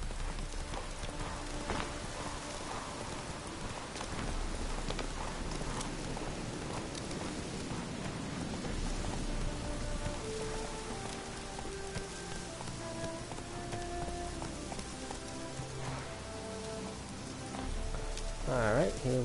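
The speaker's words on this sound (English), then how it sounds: "Wonder when the rain's gonna stop." Steady, quiet rain falls in the video game Witcher 3, Hearts of Stone, with a horse's hoofbeats clopping through it as it runs, all at low volume.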